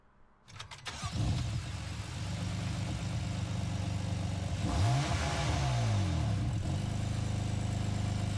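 A BMW M4 Group 4 race car in Gran Turismo Sport starts up and settles into a loud, near engine drone, with revs rising and falling in sweeping pitch bends and no talk.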